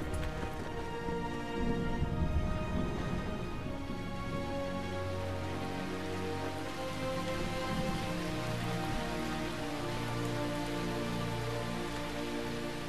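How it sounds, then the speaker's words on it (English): Steady rain pours down in The Last Story on Wii, with rhythmic hoofbeats clopping along underneath. "I guess it's raining then."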